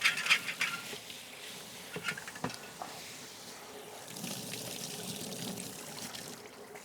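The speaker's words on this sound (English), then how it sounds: "now what I'm gonna do is rinse my soil blocker off" Water trickles and splashes as a soil blocker is rinsed out, a soft irregular pouring with a few louder clinks early on, close but faint.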